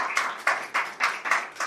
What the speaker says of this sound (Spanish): Dale un fuerte aplauso entonces al Señor.